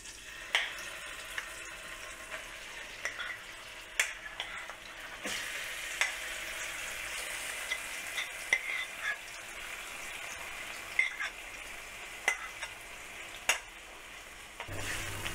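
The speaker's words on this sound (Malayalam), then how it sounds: "ചൂടായ പാനിലേക്ക് ഞാൻ എടുത്തു വെച്ചിരുന്ന നെയ്യിൽ നിന്ന് 2 ടേബിൾ സ്പൂൺ നെയ്യ് ഒഴിച്ചിട്ടുണ്ട് അത് ചൂടായിട്ടുണ്ട് ഇനി നമുക്ക് മധുരക്കിഴങ്ങ് ചേർത്ത് കൊടുക്കാം" Crushed sweet potato for burfi fries in hot ghee in a pan, a steady close sizzle broken by scattered sharp scrapes and clacks of stirring, with no voices.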